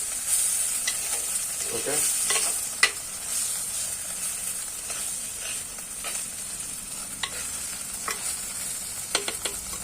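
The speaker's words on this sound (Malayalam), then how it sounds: "നമുക്കിത് നല്ലോണക്കൊന്ന് ഇളക്കി കൊടുക്കാം" Cooked, unsalted beans for jackfruit leaf thoran are stirred in a pan, with intermittent spoon scrapes and taps over a soft, continuous sizzle. A voice says a single brief word.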